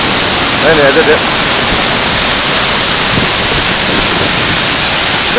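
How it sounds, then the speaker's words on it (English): Benlister Falls on Arran, swollen after heavy rain, roars as a loud, continuous broadband rush of fast-flowing water, with a brief voice speaking faintly over it near the start. "Look at the speed of that water."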